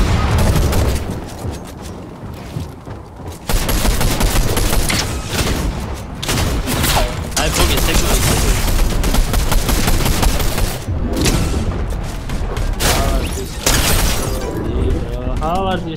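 Rapid automatic gunfire and booming shots from an online shooter match, loud bursts stacked densely over nearly the whole stretch with a short lull early on, while players talk over the action.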